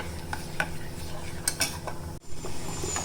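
A Multani mitti beauty soap mixture is stirred in a pot, giving soft scraping and clicking strokes in a steady rhythm, close and fairly quiet, with a brief break partway through.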